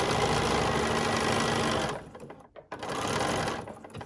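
A 790 plus sewing machine stitches fabric for a reversible bag with a fast, steady mechanical hum, stopping briefly near the end before a short burst of stitching resumes, close and fairly quiet.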